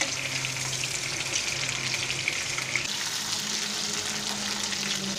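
Coarsely ground spice paste frying in a pan with winter vegetables, a loud, steady, close sizzle and crackle with light stirring, no voices.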